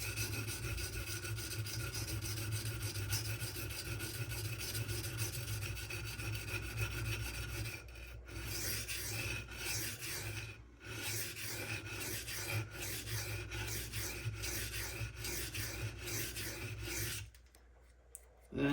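A Strider SNG knife blade is drawn against a sharpening stone, producing a steady close rasping scrape that runs continuously with a few short pauses and a near stop toward the end.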